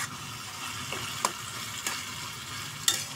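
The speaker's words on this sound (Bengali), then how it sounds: "টমেটোগুলি গালাই নেব।" Tomatoes cook down in a pan with salt, oil and spices, giving a quiet, steady simmer. A few sharp scrapes and taps from stirring punctuate it.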